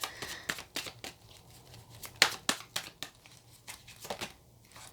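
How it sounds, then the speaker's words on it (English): Tarot cards being shuffled by hand, close, with irregular soft flicks and riffling snaps scattered over several seconds, quiet overall and without talking. "I don't know why I'm finding it difficult to shuffle today."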